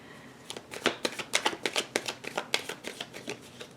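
A deck of tarot cards is shuffled in quick, uneven riffles and snaps, a close, crisp flurry of papery clicks with no talking.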